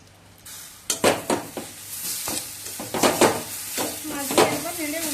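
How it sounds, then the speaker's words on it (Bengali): Raw papaya curry being stirred in a pan, a utensil scraping and clinking against the metal in several uneven strokes over a soft sizzle, close and fairly loud. "এবার পেঁপেটা মিনিট দিয়ে নেড়ে ঢাকা দিয়ে দেবো"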